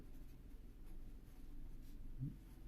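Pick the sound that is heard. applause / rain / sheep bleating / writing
writing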